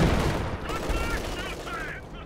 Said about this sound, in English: Lots of artillery going down.